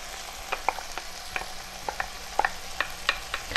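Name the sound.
frozen mixed vegetables added to ground beef, sizzling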